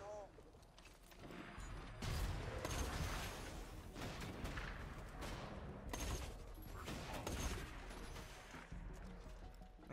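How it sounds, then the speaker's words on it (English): Shotgun blasts in Borderlands 2, a run of loud broadband bursts from about two seconds on, mixed with mechanical handling noise and game ambience, with a voice talking over the gunfire. "This is a shotgun."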